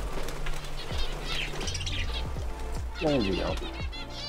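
Birds in an aviary chirp, coo and flap their wings close by, with bursts of wingbeats and scattered tweets. Someone speaks briefly over them.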